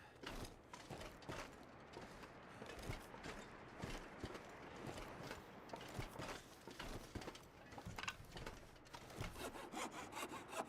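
A hacksaw cuts through birch in the survival game The Long Dark, making steady, continuous back-and-forth rasping strokes that are close and clear and run throughout without pause.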